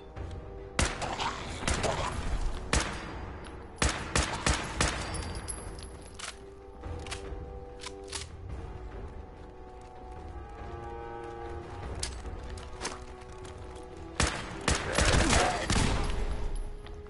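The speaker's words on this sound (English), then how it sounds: "I shot his leg out." Gunfire in a Fallout-style game, with repeated sharp shots in bursts spread across the stretch, some loud and close and some quieter, along with occasional game clatter and someone talking in between.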